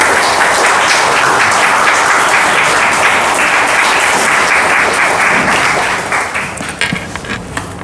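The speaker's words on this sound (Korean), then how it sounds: "따뜻한 박수로 우리 목사님 환영하겠습니다" A Korean church congregation at a Sunday worship service gives a warm round of applause to welcome the pastor, with dense, steady clapping that fills the room and thins out toward the end.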